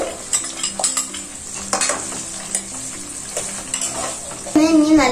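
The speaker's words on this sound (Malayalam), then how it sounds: "ഇനി നല്ലോണം വഴന്ന് വരുന്ന വരെ ഇളക്കി കൊടുക്കാം." Ginger is stirred and sautéed in hot oil in a pan for a mixed vegetable pickle, with steady sizzling and repeated scraping clinks of a spoon against the metal, loud and close, then a brief whine near the end.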